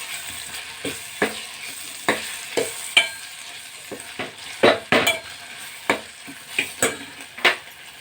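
Spices fry in a pan as a tempering for black-eyed pea guggillu, with cumin, ginger-garlic paste, turmeric and coriander powder: a steady close sizzle under repeated scraping strokes of a spoon against the pan, and no talking.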